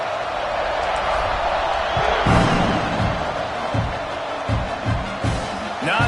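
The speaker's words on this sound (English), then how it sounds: "this crowd is buzzing after that last score." Football stadium crowd roaring and buzzing after a score, a loud dense wash of cheering with thumping noise, while a commentator talks over it.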